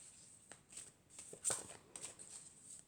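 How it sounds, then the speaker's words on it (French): Tarot cards are shuffled and drawn in soft, quiet riffles and light slaps, a handful of brief papery bursts close up in an otherwise hushed room. "je vais tirer 4 cartes pour commencer"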